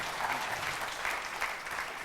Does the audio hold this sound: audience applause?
yes